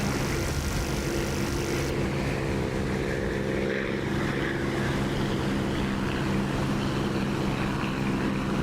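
Propeller engine of an American Corsair fighter plane in the DCS flight simulator, a steady droning roar that holds at constant loudness throughout, slightly muffled, with no voices over it.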